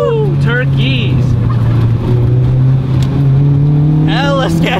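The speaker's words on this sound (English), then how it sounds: "Turkeys!" Wild turkeys gobble beside a mountain road while an Acura Integra with a K24 engine drones loudly nearby; two short bursts of warbling gobbles, one early and one near the end, ride over the steady engine hum.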